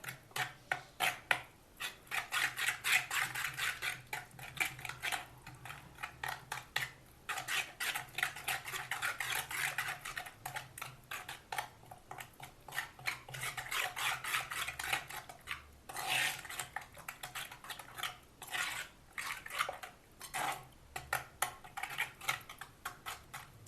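A spoon scrapes and clinks steadily around a bowl while paneer tikka marinade with curd and pink salt is stirred, a close, continuous rhythm of light scraping and tapping with no talk over it.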